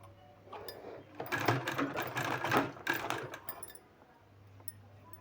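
A sewing machine stitches a sleeve in a quiet room, a close, soft burst of rapid mechanical clatter lasting a few seconds between a faint steady hum.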